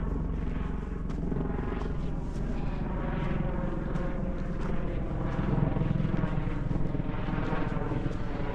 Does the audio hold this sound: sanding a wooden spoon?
no